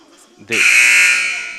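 A basketball game clock buzzer sounds at a high-school game in the final seconds: a single loud, sustained electronic blare that starts abruptly and holds steady for over a second, following faint crowd murmur.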